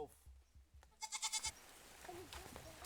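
Goats bleat in a short run of four or five rising, wavering calls at close range, with scattered background noise and faint voices nearby.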